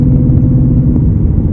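A 2024 Mustang GT with a Corsa Xtreme cat-back exhaust in sport mode, its engine giving a steady, loud low rumble at low RPM, close by and with no talk over it.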